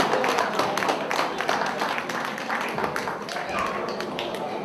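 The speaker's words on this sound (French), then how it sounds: "On peut les applaudir, hein, mesdames et messieurs" An audience applauds the carnival jury members at the tropical carnival queen election in Colombes, 2022, a dense, steady patter of many hands clapping that continues throughout, with faint voices mixed underneath.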